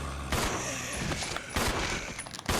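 Handgun shots fired in Resident Evil 0, a few sharp, loud cracks spaced irregularly over a murky in-game background, with a last quick shot right at the end.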